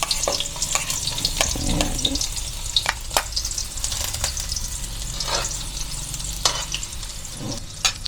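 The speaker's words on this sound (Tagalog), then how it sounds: "Lagay na po natin ang ating sibuyas. Dahil mainit na yung ating mantika." Chopped onion frying in hot cooking oil for chicken in ketchup, a steady loud sizzle with crackling pops and occasional stirring scrapes throughout, no voices.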